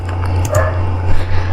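A pet dog barks and yips close by with short whimpering sounds, over a steady low electrical hum and no talk.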